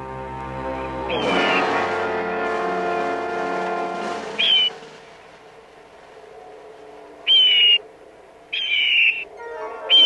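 Red-tailed hawks fighting over nesting territory: a long, loud, harsh scream fades out, followed after a pause by several short, piercing high calls in quick bursts, set against a quiet outdoor background.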